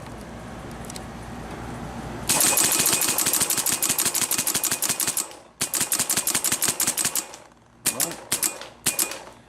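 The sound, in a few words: Nummech N-Autococker paintball marker shooting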